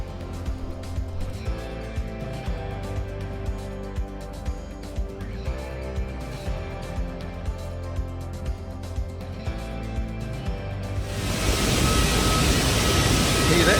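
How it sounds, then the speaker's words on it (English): A plane at Changi Airport warms up its engines, a steady droning rumble with rhythmic pulses that swells into a loud roaring rush near the end. "There's a plane just warming up its engines just here"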